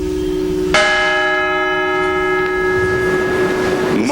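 A church bell tolls once for a victim of Flight 93, a loud struck note that rings out and decays slowly through the rest of the moment, at a solemn memorial on the first anniversary of September 11.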